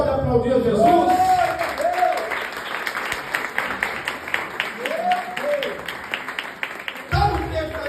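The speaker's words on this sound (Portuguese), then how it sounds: "Quantos podem aplaudir a Jesus?" A church congregation at a Portuguese worship service applauds in sustained, dense clapping, while a preacher's voice rises above it at intervals and the applause thins toward the end.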